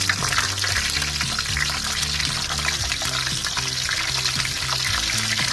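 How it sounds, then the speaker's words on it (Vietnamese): Dried pangasius fish frying skin side down in hot oil, a loud, continuous close-up sizzle and crackle with occasional scraping of a utensil in the pan. "Giờ mình cho khô tự chiên, chiên cái phần da trước."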